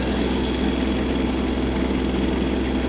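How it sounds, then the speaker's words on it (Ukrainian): A Yanmar KE-50 mini tractor engine runs at full throttle in fourth gear, a loud, steady, low mechanical drone with constant vibration and no speech. "Миттєво, миттєво просто трактор набирає свою максимальну швидкість."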